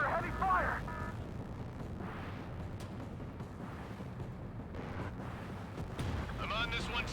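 Heavy gunfire and explosions rumble in Ace Combat 7 during an aerial bombing attack, with repeated booms and bursts mixed under radio-style voices talking.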